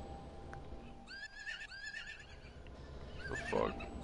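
A horse neighs in a video game, a shrill whinny in several bursts with a second louder neigh near the end, over game background noise and no speech.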